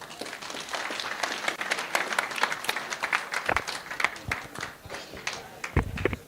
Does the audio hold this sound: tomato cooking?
no